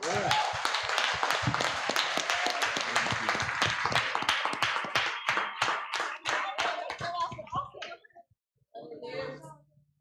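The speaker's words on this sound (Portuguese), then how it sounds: "A igreja aplauda ao Senhor." A church congregation claps during a Sunday evening service, loud dense clapping that thins into scattered individual claps and stops, followed by a brief voice and a cough.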